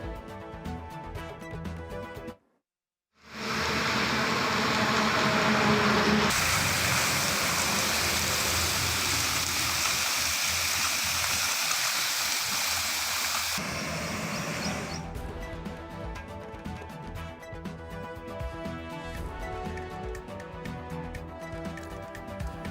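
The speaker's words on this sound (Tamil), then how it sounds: "30 அடி உயரத்திற்கு மேலாக பீச்சியடித்து வீணாகும் தண்ணீர்." A burst drinking water pipe in Tiruvottiyur, Chennai, sends water spraying more than 30 feet into the air. It makes a loud, steady rushing roar that lasts over ten seconds after a brief silence.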